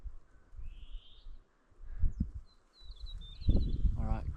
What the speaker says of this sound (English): Hear the birds shouting.